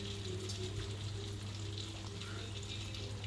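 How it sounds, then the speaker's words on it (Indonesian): Eggplant slices sizzling and frying steadily in hot oil in a home kitchen, a continuous close crackle with a low background hum throughout. "Terus aku tambahin buat goreng terongnya ini ya"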